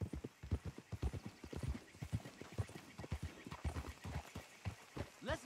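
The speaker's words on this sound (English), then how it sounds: "Let's leave the horses off the road to the right here." Horses' hooves clip-clop steadily in Red Dead Redemption 2, a quick irregular patter of several animals moving close by, with an occasional whinny and no talk over it.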